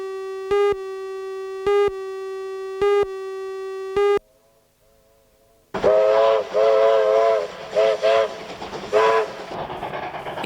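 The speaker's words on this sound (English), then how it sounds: "a steam train hauling coal from No. 2 Stockrington Colliery" A steam train hauling coal from No. 2 Stockrington Colliery near Minmi sounds four short, evenly spaced whistle blasts, then passes with a loud, close rumble and clatter as further whistle calls rise over it.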